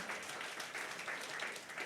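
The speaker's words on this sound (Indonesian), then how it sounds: "Tepuk tangannya bagi Tuhan kita." Church congregation applauding at a Pentecostal service in Jakarta, a dense, steady wash of clapping filling the room without pause, moderately loud and even throughout.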